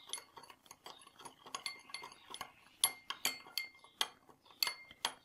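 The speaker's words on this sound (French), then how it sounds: "Je mélange." A spoon stirs baking soda into a glass of liquid, giving quick, quiet metallic clinks that become more distinct and evenly spaced toward the end.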